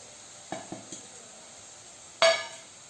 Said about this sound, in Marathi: हे आपले मसाले तेलामध्ये फिरवून घ्यायचे चांगले